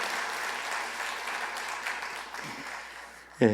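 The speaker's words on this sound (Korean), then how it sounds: "환영의 박수로 축하하겠습니다" A church congregation in a Korean Sunday service claps in welcome, a dense even patter of many hands that thins near the end before a voice cuts in.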